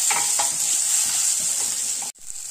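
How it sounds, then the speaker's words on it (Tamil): Tomatoes sizzle in hot oil with a constant hiss, broken by a few stirring scrapes; the sizzle briefly cuts out near the end. "தக்காளி நல்லா வதங்கிடுச்சு"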